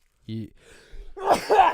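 A single sharp sneeze bursts out near the end after a brief voiced sound, close and fairly loud, with someone talking nearby.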